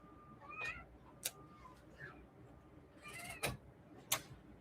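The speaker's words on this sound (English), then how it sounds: "Did y'all hear my cat?" A cat meows and whines in a few short, thin cries spread over several seconds, fairly close but soft, in a quiet room with faint background noise and no speech.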